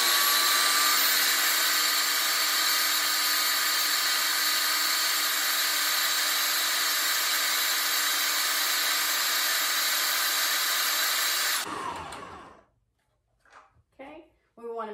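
A food processor whirs loudly and steadily while mixing pizza hummus toward a smooth, creamy texture, then cuts off abruptly near the end, leaving a few faint clicks and knocks.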